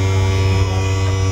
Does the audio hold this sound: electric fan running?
yes